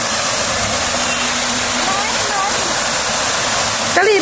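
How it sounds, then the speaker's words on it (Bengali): A water fountain running at a religious site: a steady, loud rushing splash that fills the whole stretch, with voices talking faintly over it. "দেখো ফোয়ারাটা চালু করেছে"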